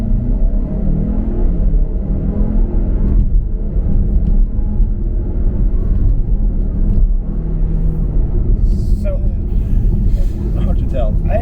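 A 2023 Buick Envision ST with all-wheel drive engaged accelerates hard at full throttle, a loud, steady low engine rumble and drone heard from the cabin, with a voice speaking over it throughout.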